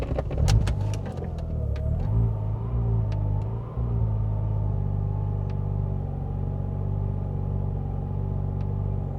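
Mazda RX-8 with a Haltech R3 tuning setup, moving in traffic: a steady low engine rumble inside the car, with a few sharp clicks early on and a faint tone holding over the drone.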